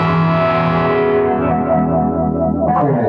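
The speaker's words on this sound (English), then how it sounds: "This is how I end most songs, with this chord right here." An electric guitar rings out a sustained 6/9 chord with effects, distortion and a hint of chorus, loud and close, the chord slowly decaying across a few seconds with a small pick noise near the end.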